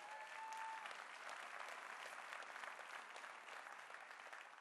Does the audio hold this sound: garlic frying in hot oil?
no